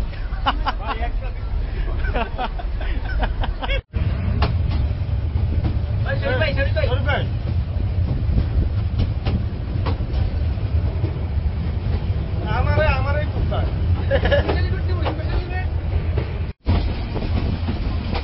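A moving train roars loudly between two carriages as steady rumbling and clatter, while people talk and chatter over it.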